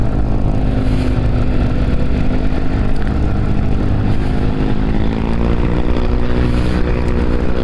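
A motorcycle engine hums steadily on a hilly road between Cileunyi and Lembang, its pitch shifting slightly as it climbs, loud and close with constant wind rush and no talking.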